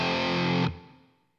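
Electric guitar run through a distortion pedal into a Rivera Silent Sister isolation cabinet holding a 12-inch Celestion Vintage 30 speaker, with reverb added: a loud, thick distorted chord rings for about half a second, then cuts off into a fading reverb tail.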